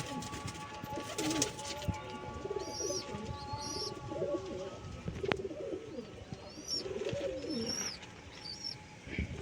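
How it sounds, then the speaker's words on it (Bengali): Several pigeons coo softly in a loft, with short chirps scattered throughout, all over a steady murmur of background noise. "দেখুন পায়রাটাকে লাইন করে দেখাচ্ছি। দেখুন পায়রাটা, দেখুন একদম খাড়া পায়রা আছে একদম।"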